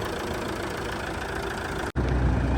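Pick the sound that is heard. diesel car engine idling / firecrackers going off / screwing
diesel car engine idling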